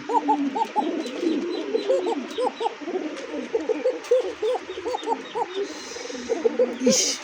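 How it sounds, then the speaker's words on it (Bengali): Pigeons cooing close by, a pale-coloured show pigeon among them, the deep rolling coos overlapping in a steady chorus throughout. "দেখেন ডাক এটার যখন দমটা ধরবে তখন মনে করবেন যে এটা ডাক কাকে কয়।"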